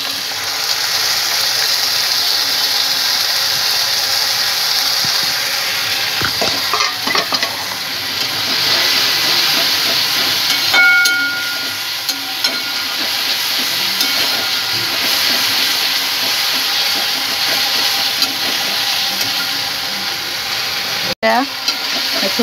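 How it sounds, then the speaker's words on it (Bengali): Ginger, garlic and green chilli paste frying in a pan gives a loud, steady hiss throughout, broken by scraping and stirring clatter and a sharp knock near the end. "এবার আমি এই যে আদা রসুন আর কাঁচা লঙ্কার পেস্টটা করে রেখেছিলাম ওটা দিয়ে দেবো।"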